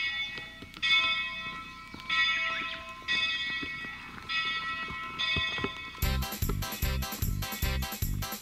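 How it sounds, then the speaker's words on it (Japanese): The Bell of Hope rings in a series of clear, resonant strikes about a second apart, each tone lingering. It ends in a louder, faster burst of clanging close by, with no speech. "希望の鐘でしたね。"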